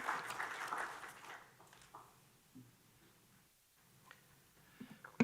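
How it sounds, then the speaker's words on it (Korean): A church congregation at a Korean revival service claps to welcome a pastor, a brisk burst of applause that is loudest at the start and fades over a couple of seconds into quiet room noise. "힘찬 박수로 환영하겠습니다"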